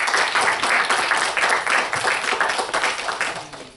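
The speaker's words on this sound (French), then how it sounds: "que je demande d'applaudir" Audience applause at a conference session, many hands clapping in a fairly loud, steady stream that rises and falls slightly across the clip.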